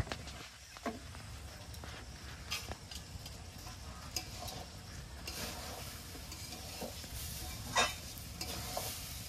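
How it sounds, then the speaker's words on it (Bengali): Rice and lentils being stirred and sautéed in a pan for khichuri, a steady soft sizzle with intermittent scraping of the spoon against the pan, close and continuous with no talking. "এবার নেড়ে চেড়ে সুন্দরভাবে চাল ডালটাকে কষিয়ে নেব"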